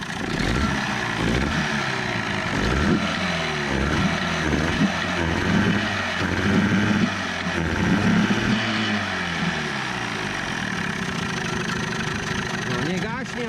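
An Evinrude 25 outboard boat motor, running in a test barrel, runs loudly and steadily with a low, chugging rumble, its pitch shifting slightly as it is revved, with no talking over it.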